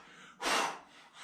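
A single sharp, forceful exhale through the mouth during a kettlebell exercise, a brief loud breathy burst standing out over quiet room tone.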